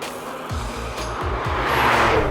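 A 2020 Porsche 718 Cayman GT4 sports car drives with a low engine note that pulses in a repeating pattern. Road and engine roar build gradually and grow louder toward the end.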